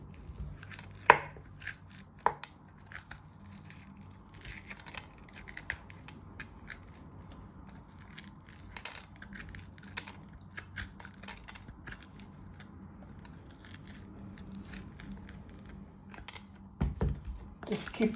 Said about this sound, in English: With a spoon, you want to get all the stalks and seeds out.